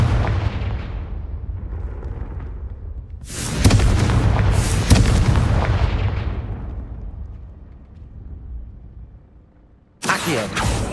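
A Confringo spell blasts in Hogwarts Legacy, played on PS5. Several loud, booming explosions follow one another, each roaring burst tailing off into a rumble, with a final sharp blast near the end.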